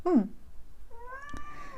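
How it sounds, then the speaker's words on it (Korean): A cat gives one short, fairly close meow, followed by a fainter, higher drawn-out mew with a soft tap in between, alone in a quiet room. "고양이도 그렇다고 이야기를 하고 있죠"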